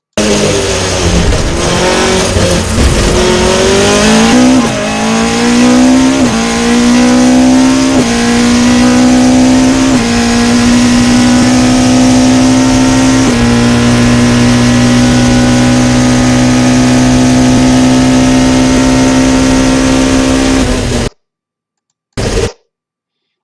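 A Caterham 620 CSR race car accelerates around the Monza circuit, its engine revving hard through repeated upshifts in a loud, close onboard roar, then cutting out abruptly with one brief final burst.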